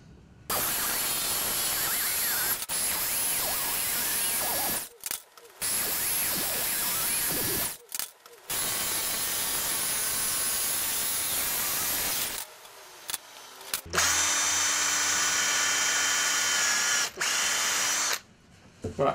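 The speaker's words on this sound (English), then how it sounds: "I'm going to cut if I can around there with a jigsaw, take my time" A jigsaw cuts a shape in pallet wood for a bookshelf, a loud buzzing, rattling drone in long bursts broken by short pauses, close up, with a different steadier motor tone near the end.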